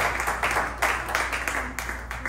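A church congregation at Sunday worship in Sherbrooke, Canada, claps in steady bursts, the applause rising and falling in waves, moderately distant and fairly faint.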